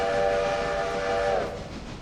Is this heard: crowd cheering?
no